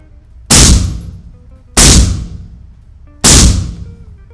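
Three loud, sharp shots from a live firearm during tactical shooting practice, spaced about a second and a half apart, each ringing out and decaying, close by with no talking.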